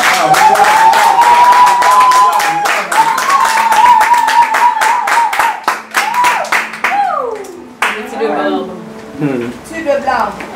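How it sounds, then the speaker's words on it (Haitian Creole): Audience applause at an awards celebration honoring actors of a drama series: rhythmic, close clapping over a sustained musical tone, with voices breaking in toward the end. "Je vais demander une bonne applaudissement pour James Maurice."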